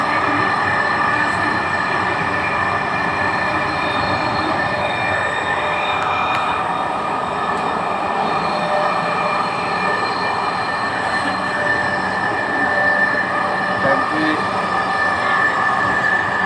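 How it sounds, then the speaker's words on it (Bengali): Inside a Dhaka metro rail train under way, the car gives a steady, loud rumble with a constant whine from the running gear and no breaks or pauses. "খুবই খালি খালি লাগছে মেট্রো রেলটি।"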